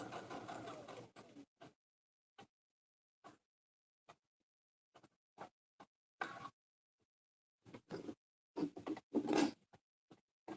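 A sewing machine stitches a quilted project bag in short intermittent bursts of rapid whirring separated by quiet pauses, with a longer, louder run near the end, close and faint overall.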